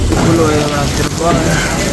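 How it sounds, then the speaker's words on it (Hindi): Heavy rain pours steadily in a dense, constant wash of noise, loud and close, with no pauses and no voices. "बारिश रुकने का नाम नहीं ले रहा है।"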